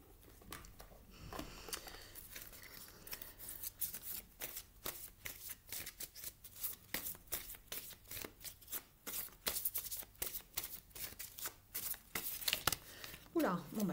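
An oracle card deck, Wisdom of the Wings, is shuffled and cards are drawn, giving a busy run of soft riffling, flicking and papery slaps close by, with a voice talking at times.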